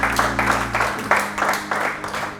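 A church congregation applauding and acclaiming the King of Kings, rhythmic unison clapping in regular bursts about three per second, loud and close, with a low organ-like hum fading out early.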